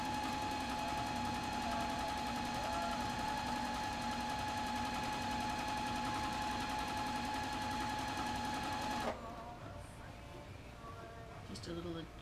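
A domestic sewing machine with an 8.5 inch throat hums steadily in close rapid stitching while free-motion quilting a full-size quilt, then stops abruptly, leaving quiet handling sounds.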